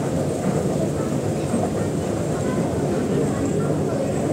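MTR train at Causeway Bay station in Hong Kong, a loud steady rumble and roar filling the platform without letup, with people's voices faintly mixed in.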